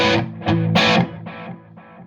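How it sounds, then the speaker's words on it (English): Distorted electric guitar notes through a Boss Katana Artist MKII amp's analog delay effect ring out, each followed by fading repeats of itself, the echoes trailing off softly. "it's got like analog delay. It's all the Boss effects."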